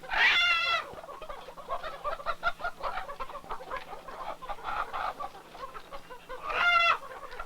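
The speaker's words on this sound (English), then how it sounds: "he's had to build a skyscraper chicken coop to keep up with demand" Chickens clucking and a rooster crowing inside a tall multi-level chicken coop in China, with crows at the start and end and busy clucking and squawks between, fairly close.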